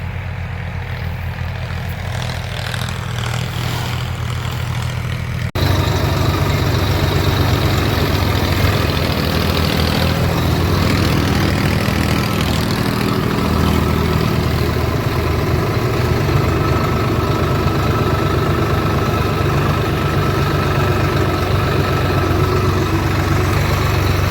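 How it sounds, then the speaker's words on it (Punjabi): A tractor's diesel engine runs in a field during sowing. It is a constant low rumbling drone that grows louder and fuller after a few seconds and then holds steady. "ਟਰੈਕਟਰ ਆਪਣੇ ਵਾਲਾ ਉੱਧਰ ਚੱਲ ਰਿਹਾ"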